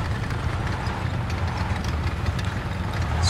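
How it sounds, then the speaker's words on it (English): Tank engines rumble in War Thunder, including a Tetrarch I light tank on a battlefield. The low, uneven, rattling engine drone continues without a break at moderate loudness, and no speech is heard over it. "Sark sounds like a lawnmower that's on its last leg."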